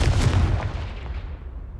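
Confringo blasting spell exploding in Hogwarts Legacy, a loud, close boom with a heavy low rumble that fades out over about a second and a half.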